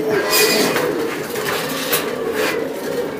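A grizzle racing pigeon of Anel bloodline coos in short, soft repeated calls at close range, heard alone with faint background noise at a pigeon sale.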